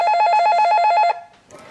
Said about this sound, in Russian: И, наконец, поступает первый звонок.